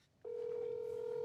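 A steady telephone tone sounds after a brief quiet moment as a phone call is placed, a single continuous electronic pitch held clearly and evenly to the end.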